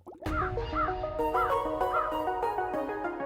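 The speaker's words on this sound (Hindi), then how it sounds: "कौवा डर के मारे चिल्लाने लगा।" A cartoon crow caws in fright in an animated rainy-day story, a run of repeated harsh calls at a steady rhythm over a sustained musical backdrop, loud and close.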